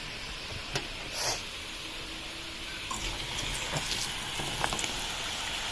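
Semolina gulab jamun frying in oil in a pan at home, a soft steady sizzle and crackle with scattered small pops and splashes throughout, fairly faint and alone without talk.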